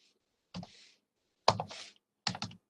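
Three short, quiet bursts of keys tapped on a computer keyboard, separated by silence.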